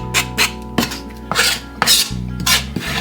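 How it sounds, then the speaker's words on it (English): A knife chops cabbage on a cutting board while making cabbage soup, with close, crisp strokes repeating at a steady rhythm of about two per second and no talking. "I'm going to chop it up."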